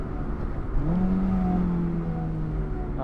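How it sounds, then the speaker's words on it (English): A Honda S2000 AP2 downshifts into a corner: the engine note blips and rises, then settles into a steady mid-pitched drone, heard fairly close and alone without speech. "Oh, beautiful downshift into the corner."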